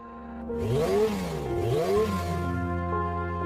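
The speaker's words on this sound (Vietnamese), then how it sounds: "Tiếng động cơ gầm vang đáp lại." A roaring engine revs in an audiobook sound effect for a demonic spirit vehicle, its pitch sweeping up and down in repeated surges over a steady rumble, loud and close with no voices.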